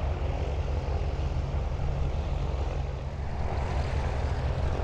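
Supermarine Spitfire propeller aircraft at Blackpool Airport with its engine running, a loud, steady, deep drone that stays close and unbroken throughout, with no voices over it.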